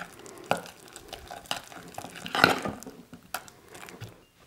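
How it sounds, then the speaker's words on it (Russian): Soft, irregular scraping and dabbing of a spoon stirring thick mashed potato, close by, with a few louder knocks. "Теперь можно перемешать просто ложкой."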